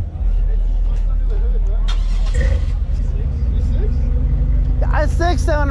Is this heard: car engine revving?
yes